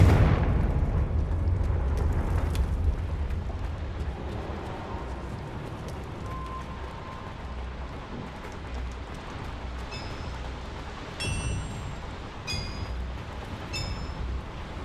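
A Confringo blasting spell explodes in Hogwarts Legacy, set in mines: a loud, booming blast that rumbles and slowly decays over several seconds, followed by lingering debris crackle and a few faint, sharp chimes.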